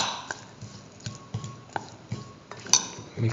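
A spoon mixes mustard paste into chicken pieces in a bowl, giving soft, wet squelches and light clinks against the bowl every half second or so, close and fairly quiet, with a sharper clink near the end.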